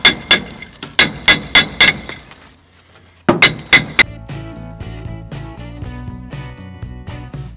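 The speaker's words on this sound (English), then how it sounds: "smack it with the hammer a bit." A hammer strikes a loose brake drum on a car axle, giving two bursts of sharp metallic clangs in quick rhythmic series. Ringing metal tones and clattering follow the blows.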